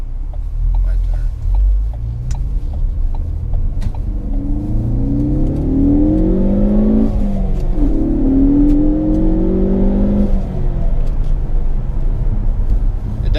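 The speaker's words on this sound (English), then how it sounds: "the Ford Focus ST does sound very good from the interior, and that is all because of sound enhancements" A 2016 Ford Focus ST with the ST3 Recaro package revs hard from inside the cabin as it accelerates, its engine note rising through a gear change and climbing again, loud and steady with synthetic sound enhancement.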